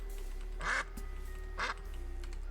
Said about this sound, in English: I can quack?